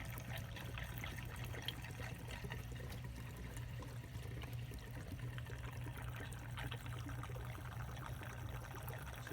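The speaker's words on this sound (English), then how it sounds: "I'll pour the whole can in, pour this whole jug in" Gasoline pours steadily from a 1.25-gallon can into the tank of a Firman generator, a continuous liquid trickle and gurgle that runs unbroken and fairly close throughout.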